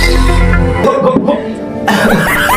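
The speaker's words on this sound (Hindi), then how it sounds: "नहीं खांसी आवत है यार" A man coughs hard and loudly at close range, giving a couple of harsh bursts with a throaty, strained quality.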